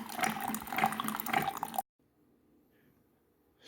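Water runs through a Keurig 2.0 coffee machine in a steady gurgling, trickling stream that stops abruptly after about two seconds, leaving a faint low hum before a new rise at the end.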